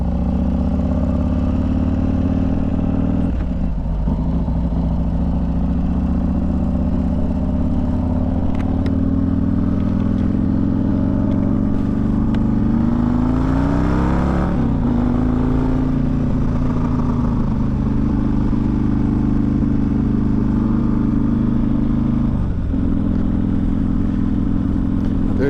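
A motorcycle fitted with an S&S 124 engine is ridden and accelerates, its heavy engine note loud and steady throughout, with a dip around the midpoint and a brief shift before it pulls again.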